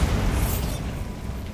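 A Bombarda blasting spell goes off in Hogwarts Legacy, a loud, dense explosive rumble with a bright burst that fades into a lingering low roar over about a second and a half.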